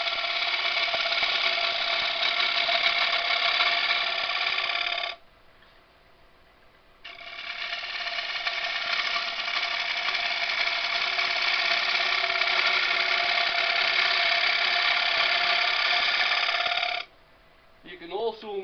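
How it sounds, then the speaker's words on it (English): A wood lathe turning an elm dish gives a loud, steady whirring hum with a tonal ring. It drops out briefly mid-way, resumes, then stops near the end, with speech present. "Depending on the power of your lathe, depending on how good the bearings are, you can make quite deep cuts doing this."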